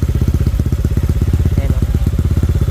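A modified Honda Click 125 scooter bored to 160cc, running on 100-octane petrol, idles at the exhaust tip with a steady, rapid, evenly spaced pulsing putter, loud and close throughout.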